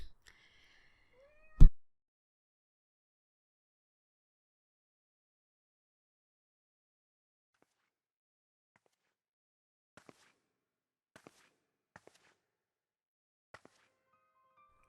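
A cat in Final Fantasy XIV: Heavensward gives a single clear meow at the start, followed by long silence and a few soft, sparse clicks from the game.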